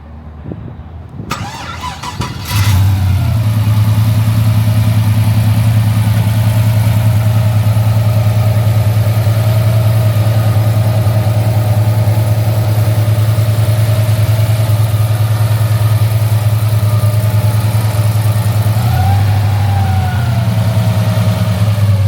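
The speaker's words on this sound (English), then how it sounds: "Runs super smooth considering you've got 600 horsepower sitting there." A 600-horsepower muscle car engine cranks and fires up, then settles into a loud, steady, deep idle close by, with a brief dip and recovery near the end.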